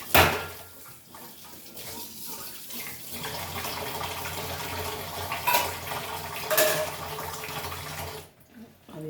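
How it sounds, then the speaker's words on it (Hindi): Tap water runs and splashes in a home sink while a strainer and bowl are washed under it. The flow is close and steady, with clattering bursts of rinsing. "ये छन्नी भी धो लेती हूँ।"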